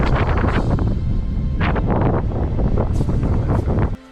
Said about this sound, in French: je vais vous faire écouter un peu le vent comment il souffle